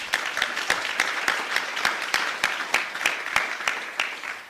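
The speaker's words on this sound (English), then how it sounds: "A round of applause, please." An audience at a fellows summit applauds, with scattered individual claps sounding over the steady wash of applause throughout.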